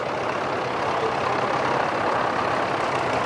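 A Farmall tractor engine rumbles in a steady, broad drone as it passes along a parade route at the Wheels at Wanaka show, sounding moderately close with no talk.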